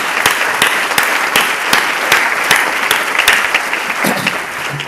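A conference crowd at a keynote claps steadily and loudly for several seconds, a dense wash of applause with no speech over it.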